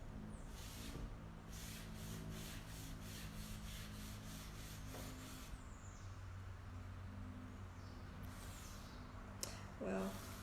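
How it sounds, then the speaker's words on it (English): A rag rubs across freshly stained wood to wipe off the excess stain, giving a steady close scrubbing and rubbing texture with a few louder strokes near the end. "I'm just gonna come back, wipe it off"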